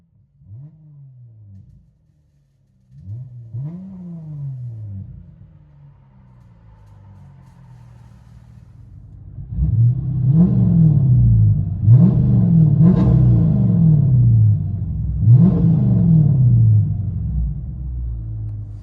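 Close by, a Chrysler 300S engine blips twice softly from idle. Then it revs hard in a series of loud, rising and falling bursts over a deep, steady rumble, with no talking.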